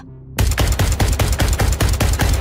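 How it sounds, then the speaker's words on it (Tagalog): Loud, rapid bursts of gunfire from a guard's gun at a remote mine in a Cebu village, about a dozen sharp shots in steady automatic rhythm after a brief quiet start. "Kinabahan ako nang marinig ang malalakas na putok ng baril."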